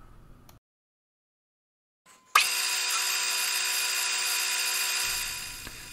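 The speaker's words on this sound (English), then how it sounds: "drill the hole first up with a commonly easily replaced one, being a quarter inch drill" After a brief silence, a power drill with a quarter-inch bit starts abruptly and whines steadily at high speed for about three seconds, close and loud, then slows.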